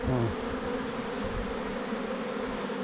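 A recovered honeybee swarm hums around its hive, a faint, even buzzing drone that carries on without pause.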